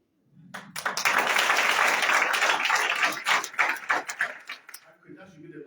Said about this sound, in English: Okay, that should be the last clap.